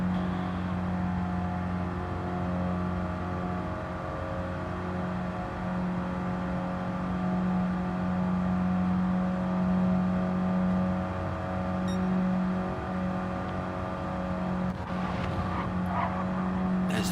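Race cars circulate at Willow Springs circuit, engines droning steadily at a distance with a sustained humming tone and faint squeals, a constant moderate drone throughout.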